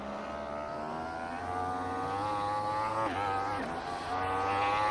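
A Yamaha motorcycle engine in the GP Bikes VR racing game drones at high revs at Brands Hatch, its pitch climbing steadily, dipping briefly around a gear shift, then rising again; the engine runs continuously with no talking.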